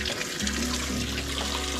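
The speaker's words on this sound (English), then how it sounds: "All right, that water's filling up faster than I thought it would." Water from a reopened valve pours steadily into a farm waterer for ducks, a continuous close rushing flow with no talking over it.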